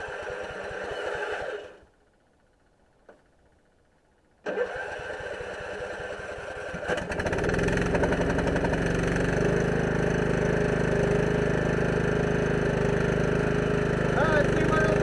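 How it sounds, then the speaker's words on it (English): A lawn tractor engine fitted with an upgraded electric fuel pump cranks, stalls into a short silence, then catches and settles into a steady, loud running drone that holds to the end. "I can hear the fuel pump kick over."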